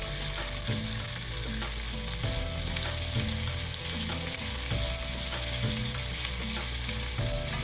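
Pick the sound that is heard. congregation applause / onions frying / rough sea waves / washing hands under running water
onions frying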